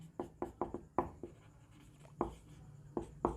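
A pen scratches across paper while maths working is written out, producing short quick strokes in a rhythmic cluster, a pause, then a few more strokes, close and quiet with no talking.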